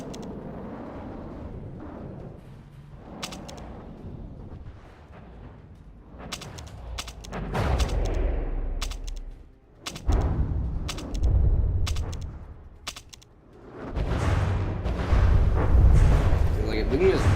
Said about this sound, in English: Big missile incoming.